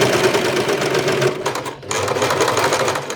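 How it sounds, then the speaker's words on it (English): Sewing machine stitching a sleeve seam on a flowy áo dài, a loud, steady, fast mechanical whirring close up, with a short dip in speed partway through and no talking. "Then sew the sleeve in place."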